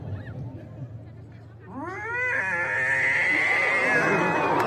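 A human voice imitates fighting cats, rising into a long, loud, wailing caterwaul after a quieter start, close and sustained until the end.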